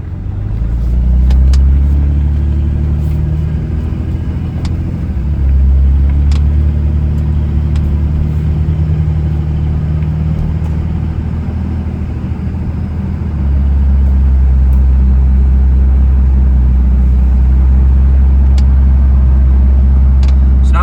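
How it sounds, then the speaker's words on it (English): A 2003 Dodge Ram with a Cummins diesel engine cruises on the highway, giving a steady, loud, low rumble with brief shifts in pitch and no talking over it. "Engine is just still so smooth."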